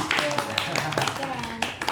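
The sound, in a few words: audience clapping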